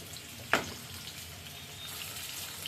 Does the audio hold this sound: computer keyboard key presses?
no